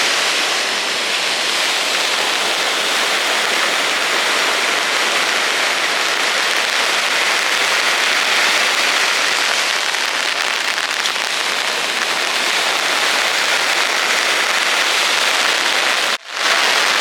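Heavy rain pours steadily at a fishing spot, a loud, dense, unbroken hiss that fills the whole stretch, with a brief dropout near the end.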